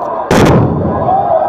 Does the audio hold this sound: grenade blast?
yes